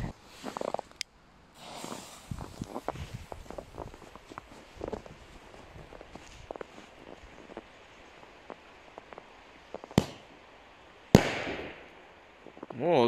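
A Carbon firecracker is set off packed in snow, giving a few scattered pops and crackles and then two sharp, loud bangs near the end. Quiet rustling comes between the blasts.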